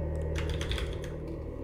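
Typing on a worn, faulty computer keyboard, a quick run of light clicky keystrokes over a steady low hum, close and fairly quiet.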